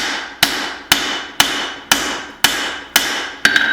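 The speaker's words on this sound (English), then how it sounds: "I went to another cross peen, a little less aggressive" A cross peen hammer beats a hatchet head during forging, seven loud, steady metallic strikes about half a second apart with bright ringing tails, close up and with no voices.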